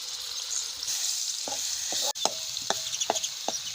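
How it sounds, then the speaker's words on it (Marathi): Onion, garlic and coconut sautéing in oil, a constant close sizzle broken by several sharp scraping stirs and spoon knocks against the pan, with no voices. "आता कांदा लसूण खोबरं परतून घेऊ त्याला"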